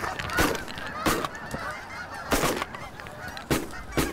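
Canada-type geese honk repeatedly as a flock flies in over a waterfowl hunting spread, loud bursts of calls recurring every second or so against an open-air background.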